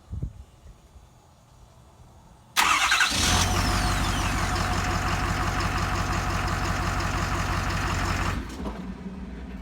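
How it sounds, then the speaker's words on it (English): A 2011 Ford 6.7L diesel, fresh from a starter replacement, is started by remote control: a quiet stretch, then a quick crank and a loud firing into a steady rumbling idle that drops slightly in level near the end. "Try to start it with a remote control"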